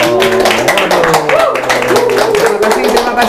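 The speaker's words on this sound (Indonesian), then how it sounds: "Tepuk tangannya dulu" Studio audience clapping on an Indonesian talk show as a shoe-business owner is welcomed, a steady patter of hands mixed with background music throughout.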